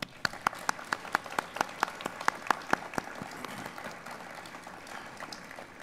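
A 9/11 memorial installation ceremony audience claps, with a run of about a dozen sharp, distinct hand claps standing out close by over a thinner spread of clapping that fades after three seconds.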